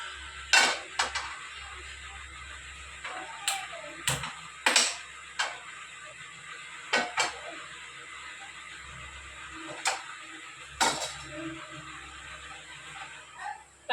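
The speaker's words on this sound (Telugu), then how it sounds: "ముందుగా మనము స్టవ్ వెలిగించి ప్యాన్ పెట్టుకుందాం" Metal cookware clanks against a stove while a pan is set down for making wheat halwa, with a series of sharp, separate clinks and knocks spaced a second or more apart over a quiet room hum.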